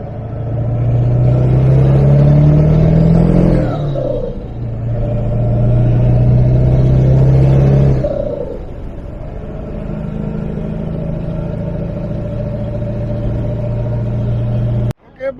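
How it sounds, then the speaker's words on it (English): A Cummins diesel in a 7.3 dually truck revs hard at a drag race, a loud, close, deep engine roar that swells twice and then settles into a steady rumble. "I got my 7x3, Beast truck, the Cummins."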